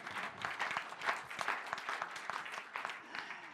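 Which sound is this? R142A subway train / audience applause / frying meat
audience applause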